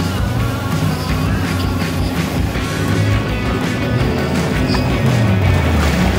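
A jet ski engine roars steadily while skimming over water, loud and continuous with splashing wash and wind throughout at an open club day.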